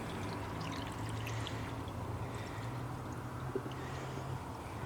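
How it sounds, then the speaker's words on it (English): Radiator flush liquid poured into a car radiator, a steady gurgling pour with light splashing that runs continuously at close range, no talking over it. "So we shall pour that in, and in it shall go"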